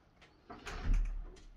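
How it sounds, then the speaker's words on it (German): A door opens with a short scraping slide and a dull low thump, close and moderately loud, followed by faint rattles in a quiet room. "Und dann ging die Tür auf."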